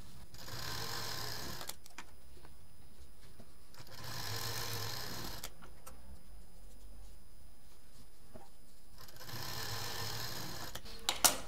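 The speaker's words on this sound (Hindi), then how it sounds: "इस तरह ट्रायंगुलर शेप की तरफ से मिलाते हुए इसको हम सिल देंगे" A sewing machine stitching triangular leftover quilt pieces together into a large mat, running in three close, steady bursts of rapid whirring separated by quiet pauses, with no talk.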